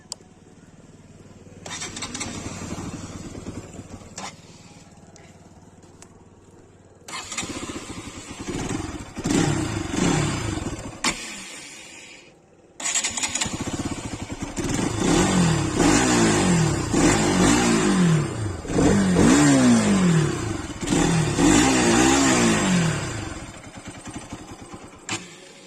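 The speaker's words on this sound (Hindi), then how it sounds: "तो गाइस इसका मैं अभी इंजन साउंड सुना देता हूँ आप लोगों को।" Bajaj Pulsar RS200 motorcycle engine starts and is revved in repeated bursts, with rising and falling whines and short pauses, heard close and loud with no talking over it.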